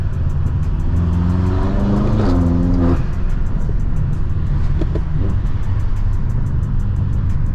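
BMW 3 Series driven hard on the road, engine note climbing and falling through rising revs and a gear change, loud and close from inside the car, with a steady throaty drone afterward.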